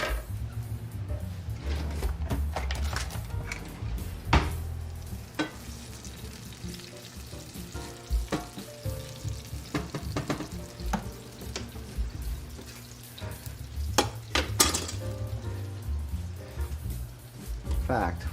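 Garlic fries in a pan over medium heat, giving a continuous sizzle mixed with scraping and stirring clicks while a person talks over it.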